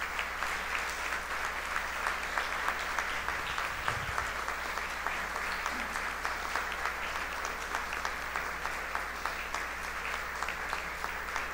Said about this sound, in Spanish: para que les demos un gran aplauso a los ganadores